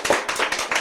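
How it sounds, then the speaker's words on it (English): A studio audience claps and cheers to welcome a guest on a comedy talk-show sketch, a brief, dense burst of applause with no voices over it. "Let's give her a warm round of applause."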